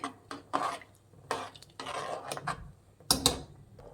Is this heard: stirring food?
yes